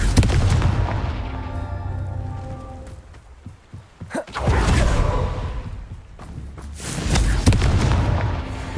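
Fiery Confringo spell blasts in a Harry Potter video game, several loud booming explosions with rumbling tails, the first a long roaring burst, then sharp cracks and two more heavy blasts.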